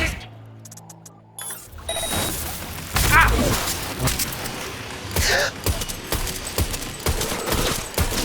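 Bursts of weapon fire in the Cyberpunk video game during a fight with a cyberpsycho, rapid shots and thuds layered over game music and effects after a quiet opening.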